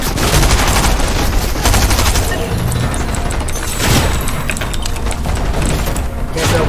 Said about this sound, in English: Heavy shotgun.